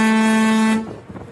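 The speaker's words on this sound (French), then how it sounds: "ensuite il y a la corne de brume, et il y a le tir" A ship's fog horn blasts one loud, steady tonal note, rich in harmonics, then cuts off abruptly into a quieter rumble of background noise.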